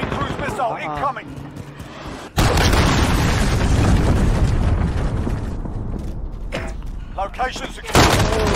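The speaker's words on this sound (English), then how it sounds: "Enemy cruise missile incoming." A cruise missile strike in Call of Duty Modern Warfare lands with a heavy, abrupt explosion that rolls into a long rumbling roar, with brief voices before and after the blast.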